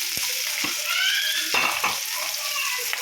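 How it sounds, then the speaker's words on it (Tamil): Steady sizzling of onions sautéing in oil, close up, with occasional scraping clicks of a spoon stirring the pan. "சேர்த்துக்கிட்டு இதை நல்லா எண்ணெயில் வதக்கிடுவோம்"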